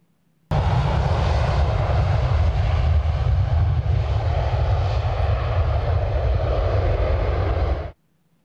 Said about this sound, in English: So let's take our jet and go.